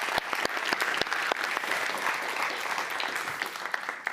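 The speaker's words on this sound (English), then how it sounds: "Can we get one big applause for them?" Audience applause for the panelists at a student pitch competition grand final, a lively mix of individual sharp claps over a steady crowd patter, fairly close and sustained.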